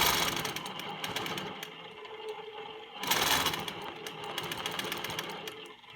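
A longarm quilting machine stitches ruler work across a quilt panel, its steady rapid needle whir running close and continuous, pausing briefly near the midpoint before resuming at a similar pace.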